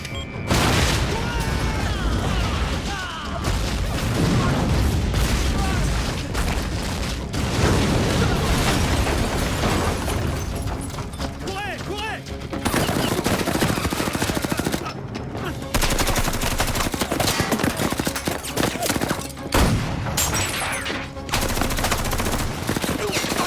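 An action-film battle rages with bursts of automatic gunfire and heavy booming explosions, loud and dense for the whole stretch, with shouted voices now and then under the din.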